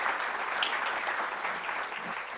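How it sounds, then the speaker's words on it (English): An audience claps for the global winners at a coding challenge kick-off event, a dense, even wash of applause held steady throughout at moderate loudness, with no voices over it. "So one round of applause for the global winners,"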